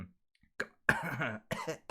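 A few short, sharp coughs in quick succession, close and fairly quiet, with brief pauses between bursts.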